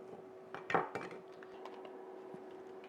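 A spoon stirs Cajun 15 bean soup with andouille sausage and ham bone seasoning in a pot, giving a couple of quick clinks and scrapes near the start, then a quiet low hum.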